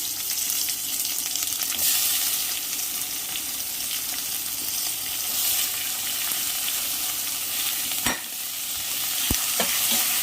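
Onion and tomato sauté in hot oil for a shark fish curry, giving a continuous sizzle with occasional stirring scrapes and a couple of sharp clinks.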